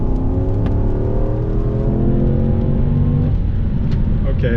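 A Lexus SC430 with an ECU modification accelerates hard, its engine note rising through the gears in loud, close climbing sweeps heard from inside the car, with a shift near the end.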